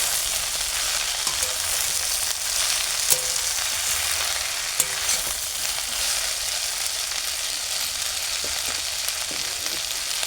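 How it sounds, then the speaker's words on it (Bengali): Chopped water spinach greens fry in a pan while being stirred, producing a steady, even sizzling hiss close by, broken by a few faint clicks of the spatula. "এবারে এটাকে একটু নেড়ে চেড়ে নেব।"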